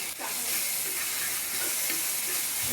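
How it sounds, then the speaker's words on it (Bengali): Softened tomato is mashed with a spatula in a hot frying pan, a dense steady sizzle and hiss filling the sound close up, with faint scraping beneath and no voices. "এবার খুন্তির সাহায্যে এটাকে একটু ঘেটে দিব।"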